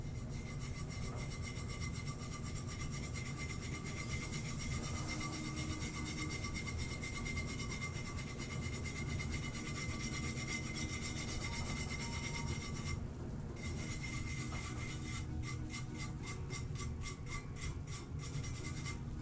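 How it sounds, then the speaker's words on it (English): Holographic glitter on a tumbler is rubbed down by hand in a steady, continuous scrubbing with no pauses, close and fairly loud, with no talking. "once you have applied your glitter, you can immediately start rubbing it down"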